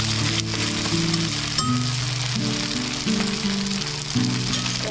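Shidol bora fritters made with pumpkin leaves fry on a low flame, a steady close sizzle and bubbling oil running evenly throughout, with a faint musical tone underneath.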